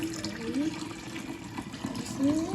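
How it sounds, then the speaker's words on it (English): Water poured into a container while making lemonade, a soft steady trickling with a few gurgles, fairly faint and close, with a voice faintly present. "So now we're going to place 5 cups of water into here."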